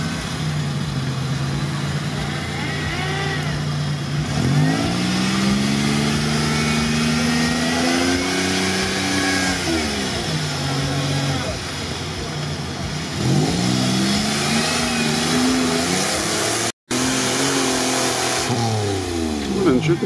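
A Toyota 4Runner on GAZ-66 axles revs hard in a deep pit, its engine rising and falling through repeated loud pulls as it strains to climb out, with people talking over it.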